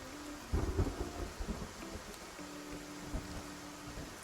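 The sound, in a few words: thunder and rain from the video game Love and Deepspace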